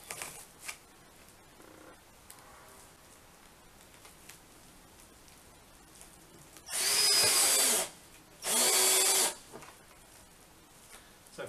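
Two short bursts of a power drill driving screws into cladding, each about a second long, separated by a brief pause, against a quiet background.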